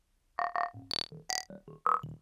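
A rapid string of short synthesized psytrance-style psychedelic particle bleeps at varied pitches, resonant and bubbly, fires off in quick succession before fading to silence.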